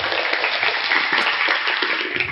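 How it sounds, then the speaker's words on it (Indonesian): A short burst of applause, a quick dense patter of clapping at steady loudness that lasts only a couple of seconds. "Tepuk tangan."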